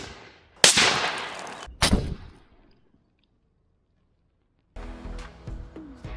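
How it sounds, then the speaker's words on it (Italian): An airbag charge set off in a controlled test: two sharp, loud blasts in quick succession, each cracking and fading into silence, then rustling and movement nearby. "andiamo a provare a farla saltare."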